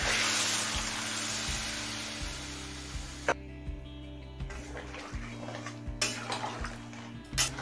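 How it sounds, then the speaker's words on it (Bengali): Hot water is poured onto sautéed mixed vegetables in a pan for a fish-head vegetable curry, a hissing rush that fades after a few seconds into scattered clinks and light stirring knocks. "এবার পরিমাণ মতো গরম জল দিয়ে দিচ্ছি।"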